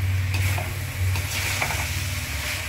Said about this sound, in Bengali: দিয়ে আরেকবার ভালো করে এটাকে মিশিয়ে নিয়ে কষিয়ে নেওয়া হবে।